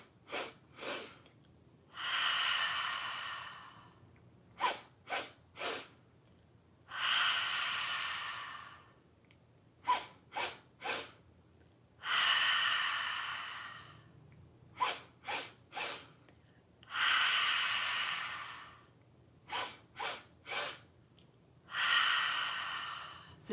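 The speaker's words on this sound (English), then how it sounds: "So the breath is 3 sniffs through your nose." Breathing exercise performed alone: sets of three quick, sharp nasal sniffs, each set followed by one long, breathy exhale through the mouth, repeating in an even rhythm for several rounds, close and fairly soft.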